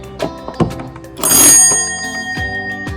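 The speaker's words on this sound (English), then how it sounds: "This is our cool doorbell." A doorbell on a mobile home rings in several bright, metallic chimes, loud and close, with a burst of noisy clatter in the middle.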